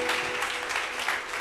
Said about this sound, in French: Acclame bien, acclame bien.